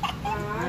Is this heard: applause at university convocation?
no